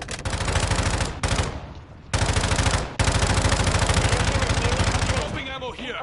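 A full magazine emptied in Modern Warfare III, rapid automatic gunfire in long sustained bursts with brief gaps between them, loud and close, then trailing off into quieter game noise.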